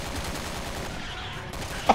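Rapid gunfire rattles against a monstrous creature in Resident Evil 6, a continuous stream of shots under a noisy game mix with a brief sharp hit near the end.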